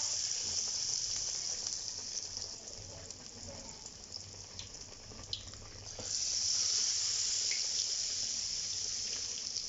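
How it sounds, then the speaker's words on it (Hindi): Batter-coated aloo bread pakora deep-fries in hot oil with a continuous close hiss and crackle, growing louder and denser partway through. "इस तरह फ्राई कर लेंगे।"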